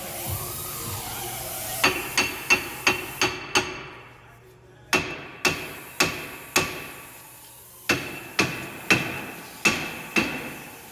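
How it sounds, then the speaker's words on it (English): Sharp metal hammer strikes ring out in a garage, near and loud, in uneven bursts of quick blows separated by short pauses, about fifteen hits over eleven seconds with a low hum underneath. "What you hammering?"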